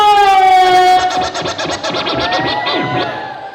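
Crowd screams and cheers at a street dance contest audition, a loud sustained roar with a high whistling tone at first, swelling and fading in waves over several seconds.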